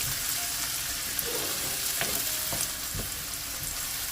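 Onion and green chili pieces fry in a pan for a methi paneer curry, a loud steady sizzle close up with scattered crackles and occasional stirring scrapes, no voices present.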